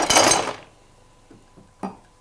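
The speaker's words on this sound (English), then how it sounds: "We'll discard the ice out of our glass" Ice rattles and clatters out of a chilled cocktail glass while making a gold martini: a dense burst of clinking at the start, then a few faint knocks and one brief clink near the end.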